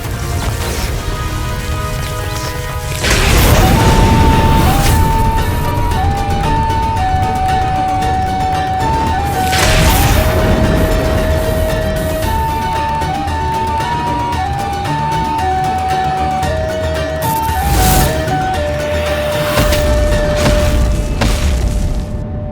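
Loud rumbling blasts crash over dramatic music with a wavering melody, one heavy burst early on and further impacts following.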